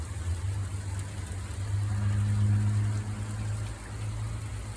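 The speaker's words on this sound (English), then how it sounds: "it's very heavy rainfall. And the hail is still coming down" Heavy rainfall mixed with falling hail during a cold front sweeping across Portland, Oregon, a steady close wash of noise with a low rumble underneath and no talking.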